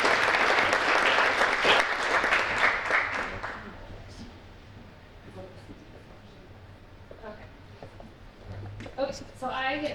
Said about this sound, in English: Let's applaud her while she walks.